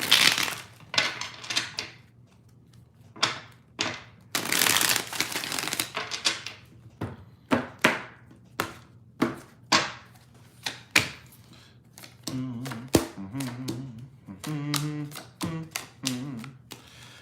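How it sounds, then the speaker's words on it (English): Tarot cards being shuffled by hand at close range, a quick series of sharp riffling snaps and soft slaps in steady rhythm, with a voice speaking briefly near the end. "Two shuffles, 2 more."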